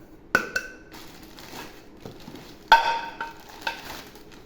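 A 3-litre stainless steel pressure cooker is handled up close, giving a few sharp metallic clinks and knocks separated by quiet gaps.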